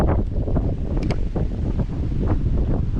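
Strong wind blows at a bass fishing spot on a waterway in Gimhae, roaring and buffeting against the microphone in loud continuous gusts close up.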